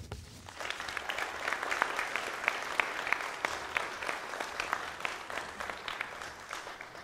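Applause for a speaker at a youth public speaking event, a moderate round of individual claps with distinct sharp hits standing out, holding steady for several seconds.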